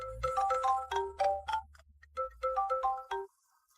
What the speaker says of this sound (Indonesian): Tolonglah angkat telepon cepat.